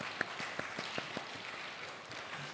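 Scattered, sparse hand claps from a Korean church congregation at a Wednesday worship service, honoring members of the Ilseong parish district; a handful of distinct claps in the first second, then thinning into quiet room tone.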